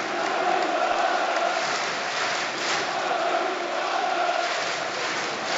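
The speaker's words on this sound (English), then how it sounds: "you can hear the Reebok Stadium here chanting out Fabrice Muamba's name" A large football crowd at the Reebok Stadium chanting Fabrice Muamba's name, a loud, steady, distant roar of massed voices filling the stadium with no break.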